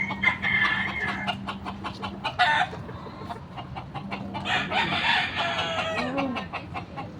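Chickens and a rooster cluck and squawk repeatedly at close range in a steady stream of short calls, with a low hum running beneath.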